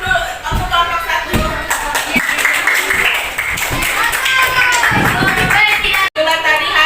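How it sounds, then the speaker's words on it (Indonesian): Classroom applause from sixth-grade students for a group after their presentation, lively clapping mixed with chatter, shuffling and a teacher's voice speaking over it. "Tepuk tangan untuk kelompok 1."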